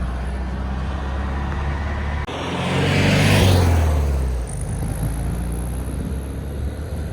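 Volkswagen Beetle engine running while driving, a loud, close road drone with a rising, swelling pass in the middle before settling back to a steady hum, and no talk.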